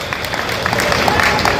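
A rally crowd claps and cheers in a dense, steady wash of applause that holds at full strength from start to finish, with voices mixed in.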